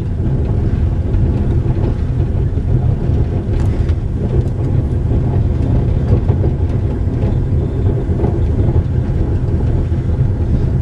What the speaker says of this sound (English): Early morning from the train.